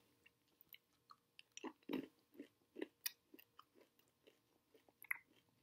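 English toffee M&M candies are chewed close to the mic, with a run of irregular crunchy bites and soft mouth sounds, quiet and without speech.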